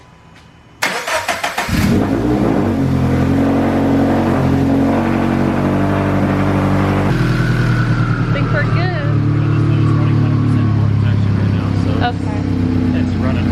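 A Subaru BRZ engine, just fitted with new injectors, cranks briefly and then fires up loud and close, settling into a steady idle with a slight rise in pitch partway through; a person speaks over it.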